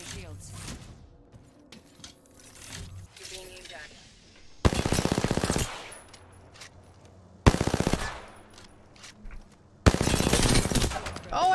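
Three loud bursts of automatic gunfire from a player's weapon in a fast Apex Legends-style shooter match, each lasting around two seconds, over quieter game sounds and scattered clinks.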